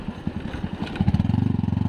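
A motorcycle engine idles on an off-road trail, a low rapid chugging pulse that grows stronger and more even toward the end, close by and alone.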